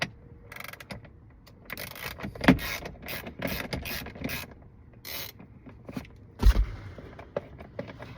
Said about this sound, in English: Then I have my ratchet here. It's a 3/8 with an extension and a 10 millimeter.